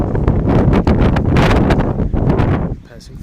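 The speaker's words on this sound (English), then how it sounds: "the wind's blowing. It's not just the average blowing." Strong wind gusting at a front door, a loud, steady broadband roar with surging buffets that drop away near the end.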